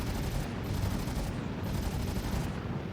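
Ship cannons firing in Star Citizen, a dense, continuous barrage of rapid overlapping blasts at steady loudness, with no talking.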